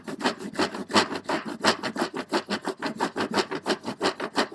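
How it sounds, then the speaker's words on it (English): Socks scrubbed on a washboard in sudsy water during 19th-century-style laundry, a fast rhythmic rasping of back-and-forth strokes, close and steady, with no voices. "the socks would be put into the sudsy water and scrubbed on the washboard if they were dirty"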